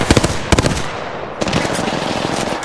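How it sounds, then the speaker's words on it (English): Automatic gunfire from the video game Apex Legends: short sharp bursts at the start and again around half a second, then a denser, sustained stretch of rapid shots running to the end, loud and close. "Being shot at."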